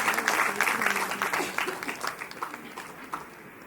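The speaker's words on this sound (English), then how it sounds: "Let's have the rain of claps too, because our panelists have done a wonderful job." Audience applause for panelists at an indoor event at the National Gallery of Modern Art, Bengaluru, a steady wash of clapping with rain noise underneath, fairly distant and gradually thinning out.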